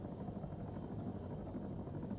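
Helicopter rotor and engine drone in Arma 3, a steady, close, continuous whir with no voices.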